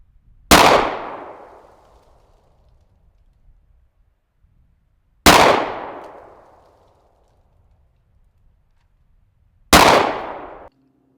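Three sharp pistol shots from a Tisas 1911 Tank Commander in .45 ACP fired at a shooting range, each loud crack spaced several seconds apart with a brief ringing decay and quiet between.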